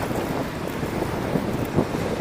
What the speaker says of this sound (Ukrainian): Вітер тут частенько буває, тому що це відкрита ділянка вздовж річки.